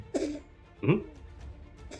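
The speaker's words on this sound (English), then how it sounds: "He's coughing." Two short, sharp coughs from someone in a tabletop roleplaying session, the first just after the start and a louder one near the middle, with a fainter throat sound at the end.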